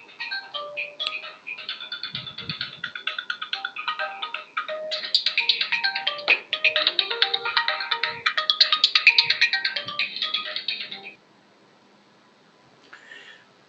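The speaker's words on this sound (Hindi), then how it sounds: "बीच में कई बार इंपॉर्टेंट फोन आ जाते हैं तो उठाना भी पड़ता है।" A phone ringtone for an incoming call plays as a loud melodic electronic tune with bright repeating notes for about eleven seconds, then cuts off, followed by a brief faint burst.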